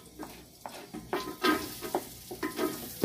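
Garlic frying in a pot as seasoning for feijoada, a crackling sizzle with a few stirring scrapes, close and moderately loud.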